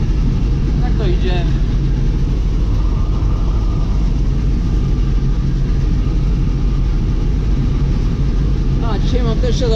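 Tractor engine running steadily during hay mowing on a farm, a loud continuous low rumble that dominates throughout, with faint sounds on top.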